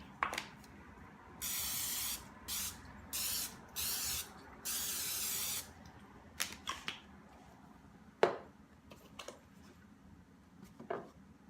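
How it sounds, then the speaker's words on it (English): Several short bursts of canola cooking spray hiss in quick succession into a baking pan, followed by a few light clicks and taps in a quiet kitchen. "I'm first going to start with a canola cooking spray"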